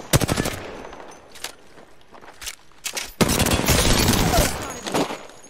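Gunfire in the video game Apex Legends rings out in short rapid bursts, then swells into a loud, sustained stretch of automatic shots near the end.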